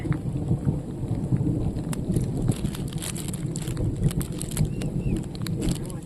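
Steady rain pours down in a jungle with low rumbling thunder rolling underneath, a dense continuous wash of sound with no voices.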